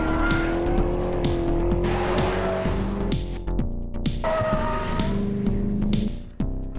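A race car with a loud, revving engine laps a 1.5-kilometre road circuit at a motorsport track, heard from on board as the engine climbs and drops through gear changes, with tire squeal in the corners and no talking.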